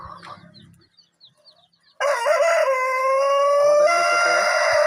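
At a hobby poultry farm rearing Brahma chickens, faint scattered clucks and bird sounds come first, then a loud, sustained rooster crow rings out close by and holds to the end.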